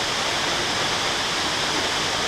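A waterfall roars in a dense, constant broadband rush, loud and steady with no pauses and no voices.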